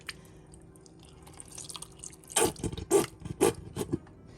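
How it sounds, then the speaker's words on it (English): Water splashing and dripping as a ketchup bottle is rinsed out at a kitchen sink, several short bursts of splashing after a quiet start, close and fairly soft. "It's just me washing out my ketchup bottle."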